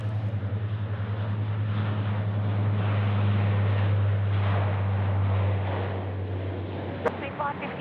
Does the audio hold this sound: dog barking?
no